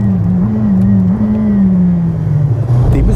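A McLaren Senna at full throttle gives a loud, sustained engine roar with a strong tone that holds high, dips briefly and climbs again, then eases off, heard close from inside the car with wind noise and no talking.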